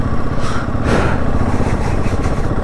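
A Royal Enfield Himalayan 450 motorcycle rides along a mountain road, its engine a continuous close drone under heavy wind buffeting and rumble, with no talking.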